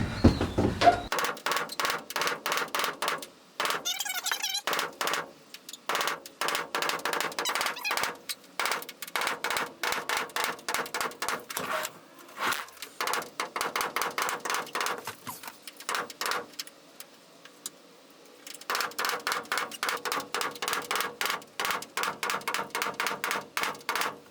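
A small teal blue tool-set hammer pounds in rapid bursts of sharp, close taps, separated by short pauses, with no voices.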